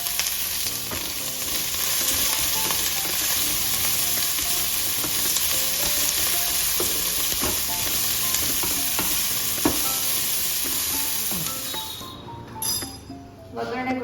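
Cumin seeds and onions sizzle in hot oil as a tempering is made, with steady loud frying and occasional stirring clinks from a utensil; the sizzle fades and becomes patchy near the end.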